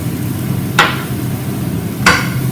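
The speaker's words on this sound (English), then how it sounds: "Let this fry off." Lamb shanks with shallots and thyme salt frying in a pan, a steady close sizzle throughout, with two sharp metallic knocks of the pan or utensil.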